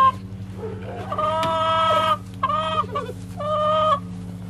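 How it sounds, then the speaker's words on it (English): A chicken on a farm clucks and chatters close by in a few drawn-out, tonal bursts separated by short pauses, over a steady low hum in the background. "That's a pretty chattery chicken there, Alexa Rose."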